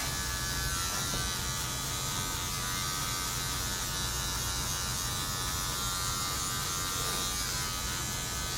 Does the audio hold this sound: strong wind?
no